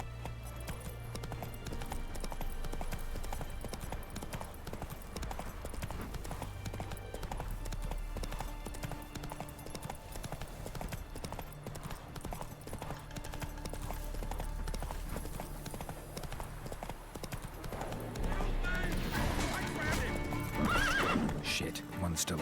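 A horse in the video game Witcher 3, with rhythmic hoofbeats and a neigh under a player's talk over game sounds, building louder near the end.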